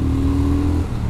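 A 2021 Triumph Speed Twin motorcycle engine pulls hard under acceleration, a loud, smooth steady drone that shifts pitch near the end, close to the microphone with no talk.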